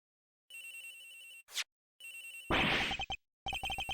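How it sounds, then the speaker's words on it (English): A mobile phone rings in the detective game Ace Attorney Investigations, giving short repeated bursts of electronic ringtone broken by brief gaps, with a rushing swish and a crash-like burst between them. "Agent Hicks's phone is ringing from somewhere, sir."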